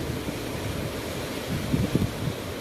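Waves and wind at Laem Mae Phim beach in the evening: a steady wash of surf and wind noise on the microphone, with a few slightly stronger wave surges late in the clip and no talk.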